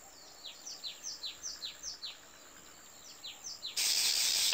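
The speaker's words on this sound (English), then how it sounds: "A little bird flies off." Small bird flitting away in the Magic Tales game, a run of quick rising chirps or wing flutters repeating rhythmically, then a sudden loud bright hiss that takes over at the end.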